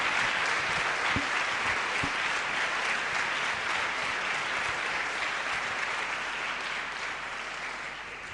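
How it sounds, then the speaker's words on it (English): Audience applause at a talk by Sri Sri Ravi Shankar at Warwick University, a dense, sustained clapping from a large crowd that slowly fades toward the end. "I had to ask you to clap. Once again now, on your own."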